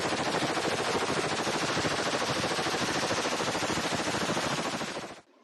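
Dense, continuous gunfire rattles nonstop for about five seconds in the Gaza conflict, a rapid crackle of many shots that cuts off abruptly.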